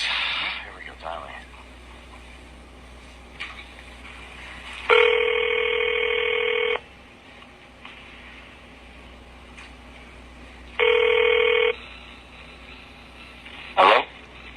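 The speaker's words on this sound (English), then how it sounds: "Here we go, dialing." A telephone is dialed and then rings, with two long electronic ringing tones separated by quiet line noise and a short tone burst near the end, heard close over a faint background hum.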